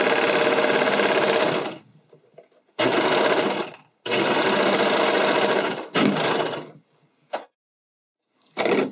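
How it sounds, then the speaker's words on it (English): Sewing machine stitching elastic onto the leg openings of briefs, running in loud, close bursts of steady whirring that stop and start with short pauses between them. "That's how I sew the first leg elastic in."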